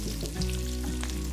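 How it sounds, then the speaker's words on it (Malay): Sliced onions sauté in plenty of hot oil in a pan, a strong continuous sizzle with a few stirring scrapes, close up and with no talking over it. "Bawang Holland, tumis sampai kekuningan dan lembut."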